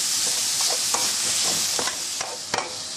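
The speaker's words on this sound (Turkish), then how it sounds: "Şimdi önce kıymamızı kavuracağız." Minced meat browning in a hot pan for a layered pastry filling, a steady dense sizzle broken by scattered clicks and scrapes of a utensil, close and without speech.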